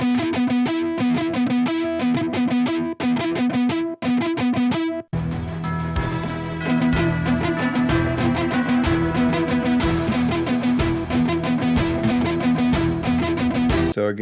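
Distorted electric guitar picks the Carol of the Bells figure, alternating between the 4th and 3rd strings in a steady rhythmic pattern, then opens into fuller, louder sustained playing with bright chorus-like effects; no talking.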